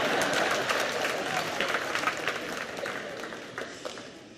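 An audience claps and applauds in a loud, continuous burst that slowly tapers off, with no talking over it.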